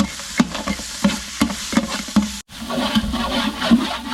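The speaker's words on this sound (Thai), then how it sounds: "ผัดเครื่องนะครับ" Spices for Thai pork leg palo stir-fried in a pan, with rhythmic spatula scrapes about every third of a second over a sizzling hiss, a brief pause, then steadier frying.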